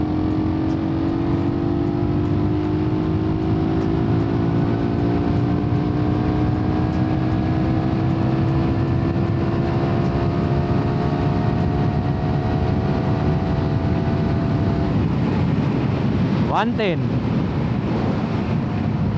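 A Suzuki Raider 150 motorcycle engine at full throttle in power mode, drone climbing steadily in pitch for many seconds, loud and continuous under wind buffeting, then a quick rev change near the end.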